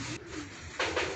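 Young racing pigeons cooing in soft repeated bursts, with a louder pair of coos near the end, no talk over them.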